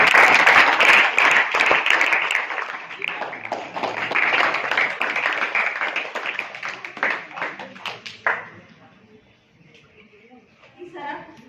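Audience applause at a World Environment Day awareness event, a dense burst of many hands clapping that gradually thins into scattered claps and fades, with a few late claps at the end.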